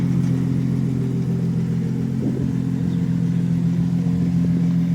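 A modified Japanese car idles and rumbles close by at a tuning meet in Osaka, a steady low engine drone with a slight rise in revs midway, continuous for several seconds.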